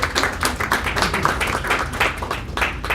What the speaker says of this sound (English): So give a round of applause for everyone